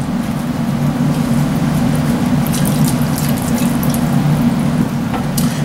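A whisk works through broth in a pot while making chuck roast gravy, giving a continuous, fairly loud wet swishing over a low steady hum for the whole stretch.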